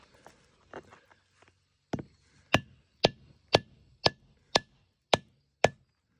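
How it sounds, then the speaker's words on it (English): A string of sharp, hard cracks, a few soft taps first, then about eight loud, evenly spaced knocks close by as black walnut shells are struck and split. "We're going to crack them open and show you what they're made of."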